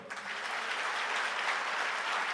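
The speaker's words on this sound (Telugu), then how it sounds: "అందుకు కొట్టండి చప్పట్లు." A church congregation breaks into applause during a sermon, a dense, steady wash of many hands clapping together, fairly loud and continuous.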